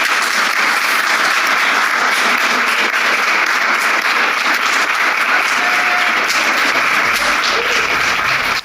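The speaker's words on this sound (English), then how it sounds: "delegates simply applaud when a member from a country getting consumed by a rising ocean cries" Delegates at the COP28 climate conference applaud in a large hall, a loud, sustained, uniform roar of clapping from many hands lasting several seconds without any pause.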